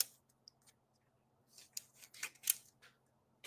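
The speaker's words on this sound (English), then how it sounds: "I could cut the wire here and strip it and do that" Cutting wire for model railway layout lighting: a few sharp, close snips and clicks from a cutting tool, sparse at first and then a quicker cluster near the end, in an otherwise quiet room.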